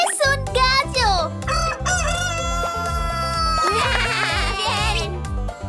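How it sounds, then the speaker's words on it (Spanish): A rooster crows loudly and close, several harmonic crowing calls with clucking running continuously alongside. "¡Es un gallo!"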